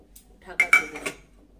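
A metal lid is set over a pan of boiling vegetables and beans with a few close clanks and rattles in quick succession, then quiet.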